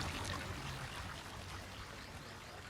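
River water flows in a continuous soft rush and trickle, recorded close to the riverbank in Nuevo León, Mexico, steady and fairly quiet with no voices.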